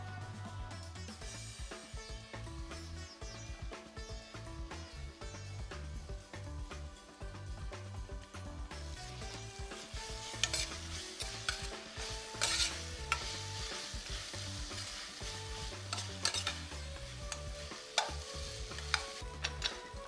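Green chillies and ginger garlic paste sizzle with browned onions in a steel pot, quiet frying broken by repeated stirring and scraping, growing busier with spoon clatter in the second half.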